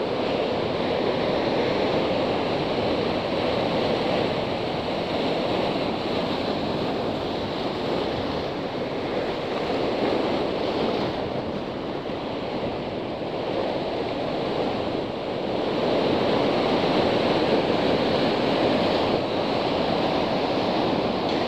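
Steady wind blowing sideways across a rocky sea shore during sea bass spinning fishing, a loud, continuous broadband roar with surf-like swells, constant for over twenty seconds with no voices.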